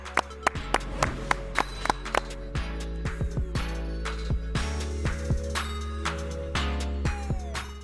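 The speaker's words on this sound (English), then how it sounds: "Clap it up." Sharp, separate hand claps on a sports podcast set, a dozen or so irregular, close and crisp slaps over a low steady hum, with no talking.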